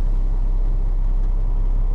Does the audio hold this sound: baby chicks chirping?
no